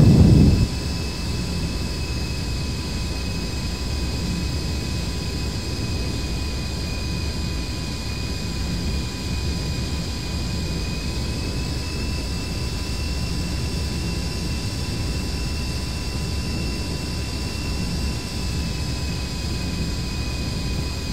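Jet engine throttling back in the DCS combat flight simulator game: a loud, continuous broadband roar with steady high whining tones that shift slightly partway through, heard alone.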